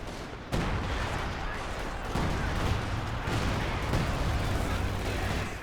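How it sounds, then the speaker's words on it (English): Assault grenades exploding in Company of Heroes 2 battle: several heavy blasts, the first sudden and loud, then further thuds and rumbling bursts amid continuous combat noise, with a commentator talking faintly underneath. "Ooh, assault grenades going off on the major."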